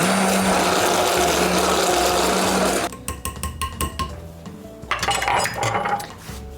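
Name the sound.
immersion blender blending quiche filling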